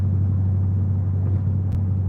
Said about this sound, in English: The AFE exhaust that I have on here is really, really loud.